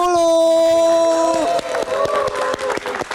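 A live concert audience bursts into loud applause as a sustained band chord rings out, the clapping and crowd noise taking over once the music fades.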